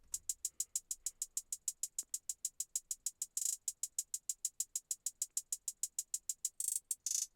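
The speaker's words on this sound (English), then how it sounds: "So this is what the hi-hat pattern sounds like." A trap beat's triplet hi-hat pattern plays as crisp, evenly spaced bright ticks in a steady repeating rhythm, with a couple of brief rolls and louder open hits, alone without voices.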